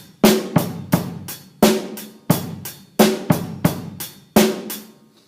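A drum kit groove played fast, with hi-hat eighth notes over kick and snare, heard as a tight, steady pattern of sharp hits and ringing cymbal, close and loud with no voice.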